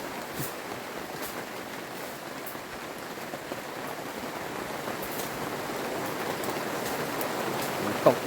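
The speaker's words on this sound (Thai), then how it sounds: "โอ้โห ฝนตกแล้วครับ" Steady rain falls all around in hill forest in Thailand, a dense even patter on surfaces and banana leaves that swells slightly louder toward the end, with no voices.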